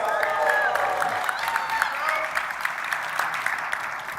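Rowdy audience at a Dassault Systèmes event breaking into sustained applause with scattered cheers and whoops, a dense wash of clapping that carries on steadily.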